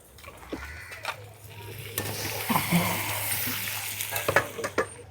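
Tomatoes frying in oil in a pan for tikka biryani, a soft steady sizzle broken by scraping stirs and occasional utensil knocks against the pan, close and moderately quiet.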